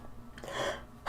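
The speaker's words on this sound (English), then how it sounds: "Sorry, I'm gonna sneeze." A single sneeze indoors in a quiet room, starting with a short breathy intake and building into a louder burst. It closes with a sharp click.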